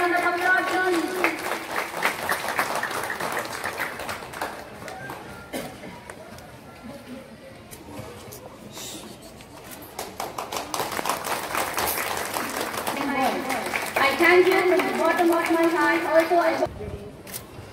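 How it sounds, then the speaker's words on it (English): Scattered clapping from an audience at a school science fair, uneven and moderately loud, mixed with children's voices and chatter around it. "Can I have a round of applause?"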